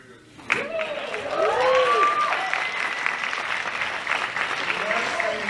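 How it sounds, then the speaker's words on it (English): An audience at the PopCon Indy 2018 convention breaks into sustained applause, steady clapping filling the room, with a voice speaking over it at the start. "The last thing I thought I would get would be an applause break."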